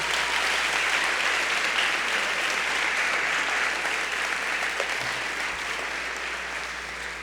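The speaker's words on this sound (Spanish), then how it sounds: "Dale un aplauso a Dios" Church congregation applauding during a sermon, a dense, continuous roar of many hands clapping that stays loud and even, then slowly tapers near the end, with no talking over it.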